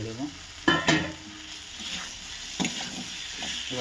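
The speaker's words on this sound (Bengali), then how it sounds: "এবার আমি বেশ খানিকক্ষণ মশলার সঙ্গে আলুগুলোকে মিশিয়ে নেব" Fried potatoes being stirred into a spice paste sizzling in oil, with a low steady fry punctuated by a few distinct scraping clanks of the spoon against the pan, close by and with no voice.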